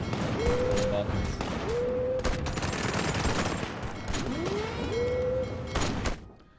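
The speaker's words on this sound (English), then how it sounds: "You should be able to do some proper shore bombardment." Naval shore bombardment in the strategy video game Hearts of Iron IV, with a loud, dense barrage of booming gunfire and rapid bursts, rising whistles, and a voice talking over it.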